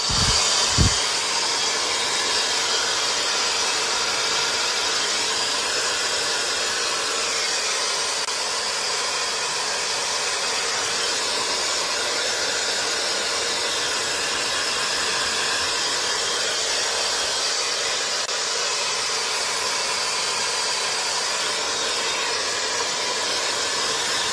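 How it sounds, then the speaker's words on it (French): A hair dryer attachment blows a loud, steady whooshing hiss while drying wet hair, running without pause after a brief click at startup. "Donc on démarre avec l'embout sèche-cheveux"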